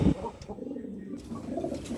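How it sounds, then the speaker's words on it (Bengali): Pigeons nesting on eggs give low, soft cooing calls nearby, a few throaty coos rising and falling over a quiet background. "এখানে একজোড়া কবুতর ডিম নিয়ে বসে আছে"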